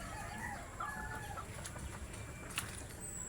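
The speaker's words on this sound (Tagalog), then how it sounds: "Malaki mga manok na to." Large chickens clucking and calling in a busy farmyard with goats and ducks, several birds overlapping at moderate distance over steady background noise, with a few sharper squawks.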